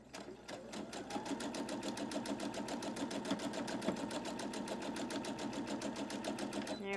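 A sewing machine chain pieces a quilt block for a wonky cut star, running steadily and close up for the whole stretch with a fast, even stitching rhythm and no pauses.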